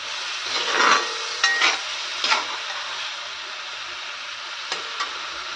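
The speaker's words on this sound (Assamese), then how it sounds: "চিকেনখিনি ভাজি কাৰণ তাৰ আগত মই গৰম পানীৰ লগত অকণমান বইল কৰিছিলোঁ তাৰপিছত আকৌ ভাজি পেলালোঁ ধুনীয়াকৈ" Pre-boiled chicken frying in a pan gives a close, steady sizzle, broken by a few short scraping stirs and clatters in the first half.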